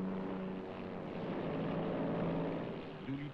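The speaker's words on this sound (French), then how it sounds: "dans un rugissement de moteur, les B-25 s'arrachent du pont" Several B-25 bombers roar at full power as they lift off a carrier deck, a dense, steady engine drone that swells slightly midway and holds throughout, with no voices.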